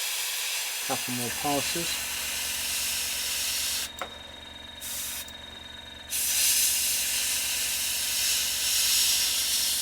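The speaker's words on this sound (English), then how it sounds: "it's a lot less aggravation, this airbrush, than my old one" An airbrush hisses steadily as it sprays paint onto a model railway piece, cutting out briefly for two short pauses before resuming loud and continuous, with someone speaking a few words near the start.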